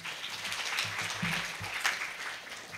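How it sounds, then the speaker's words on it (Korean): An audience at a Korea University lecture series applauds in a steady round of clapping that carries on for a few seconds, moderately loud and heard without speech. "다시 한번 큰 박수 부탁드립니다."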